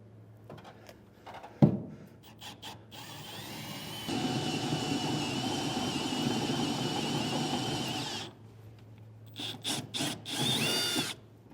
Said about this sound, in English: I'm using a step bit, and we're going to go ahead and start with the center hole.